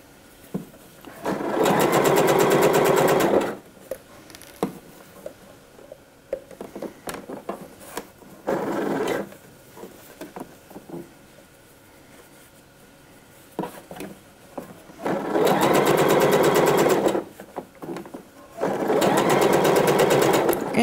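A sewing machine stitches dress fabric about 1 cm from the edge in three loud, steady bursts of running stitching, separated by quieter handling sounds and short pauses.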